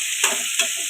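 Two short bursts of stirring and sizzle as two large chopped onions go into a hot pan for puli kathirikai, a tamarind eggplant dish, each burst close and fairly loud over a steady frying hiss.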